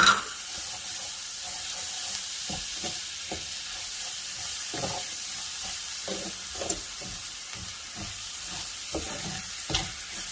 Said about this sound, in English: Now I'm going in with 2 tablespoons of unsalted butter and melt that down into the pan.